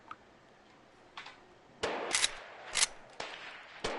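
Sharp single shots ring out one at a time from a P350 Compact Sig Sauer pistol in the VR game Gun Club VR, roughly five spaced cracks at moderate loudness with quiet gaps between them.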